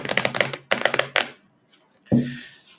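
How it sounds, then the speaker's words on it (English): A deck of cards is shuffled by hand in a few quick riffling bursts, close and crisp, following a short spoken line. "Let me shuffle my deck."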